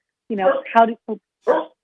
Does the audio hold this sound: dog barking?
yes